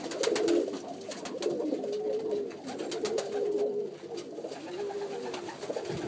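Pigeons coo in low, repeated rolling calls while eating grit, several birds close by, with scattered clicks and fluttering around them.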